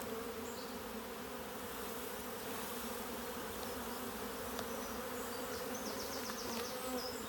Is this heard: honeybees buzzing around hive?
yes